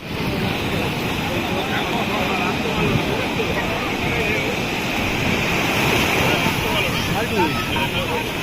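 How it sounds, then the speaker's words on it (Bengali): Sea surf on the beach at Puri, a continuous broadband wash of breaking waves that stays loud and steady throughout, with no speech over it. "হচ্ছে সমুদ্র।"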